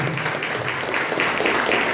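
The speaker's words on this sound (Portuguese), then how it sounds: "Aplauda o Senhor Jesus" A church congregation applauds together, a steady wash of many hands clapping at moderate loudness for about two seconds with no talk over it.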